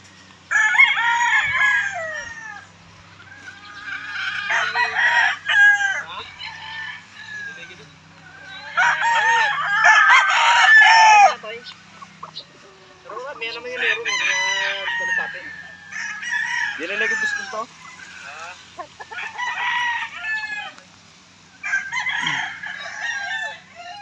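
Super G game fowl roosters in a breeding area crowing one after another, repeated loud cock-a-doodle-doo calls overlapping close by, with occasional clucks between them.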